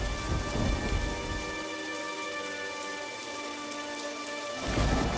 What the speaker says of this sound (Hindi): तभी अचानक से जोर का तूफान आया और बारिश शुरू हो गई।